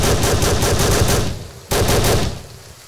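Rapid rifle gunfire in an outdoor bush setting: two loud, close bursts of shots, the first lasting over a second and the second shorter, with a sharp onset and no talking.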